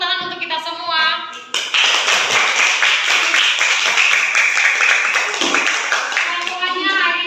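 Schoolchildren clap together in a primary school classroom, a dense patter of many small hands, loud and close, mixed with children's voices and a brief shout at the start.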